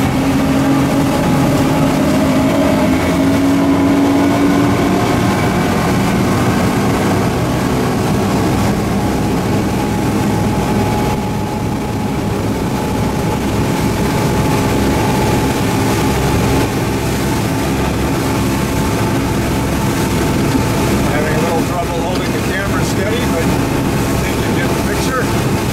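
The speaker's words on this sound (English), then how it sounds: "as we speed up, you can hear the motors rev" A Sea Tow boat's motors drone loudly as the vessel leaves a slow no-wake zone and speeds up through light wake, a steady heavy engine roar with a rising pitch over about twenty-five seconds, with a voice talking over it.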